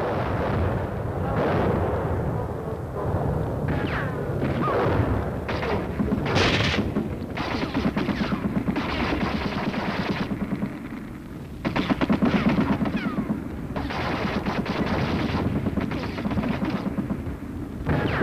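Korean War artillery fire: a continuous barrage of heavy booms and gun reports, dense and loud throughout, with sharper blasts standing out over the rumble.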